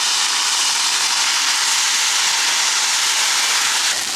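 Beef stock and Worcestershire sauce hiss loudly in a hot pan while dirty rice is being made, a dense steady sizzle that holds level for several seconds before easing slightly at the end.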